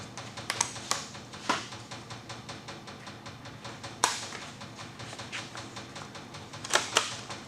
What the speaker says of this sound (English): Need to pull some staples